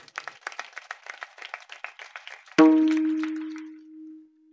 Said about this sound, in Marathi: वाजवा ना टाळी.